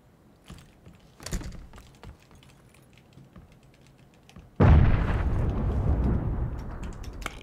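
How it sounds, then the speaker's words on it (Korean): A grenade blows up in PUBG, a sudden loud burst that rolls into a sustained rumbling roar, following a few sparse clicks and thumps beforehand. "130배에서 수류탄 터졌어"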